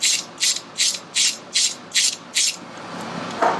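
A nut is spun down a bolt stud by hand, making seven quick ratcheting clicks at an even rhythm, close and fairly loud, followed by a brief clunk.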